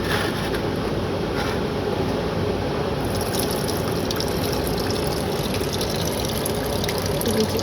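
Coolant drains in a steady, continuous trickle from a failed Camaro radiator after the seal is broken, a close, even watery hiss that keeps going without a break.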